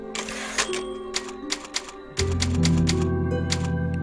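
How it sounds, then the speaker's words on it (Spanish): A typewriter saves the game in Resident Evil 4 with a burst of sharp mechanical key clacks, then a sustained chime-like tone swells in and holds steady to the end, with no talk. "aquí se supone que hay una máquina de escribir"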